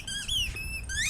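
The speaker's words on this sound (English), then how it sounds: "she will squeak those balls" A dog bites a squeaky toy ball, producing a sharp, close, high-pitched squeak that rises and falls over about a second, with a brief break before a final rising squeal.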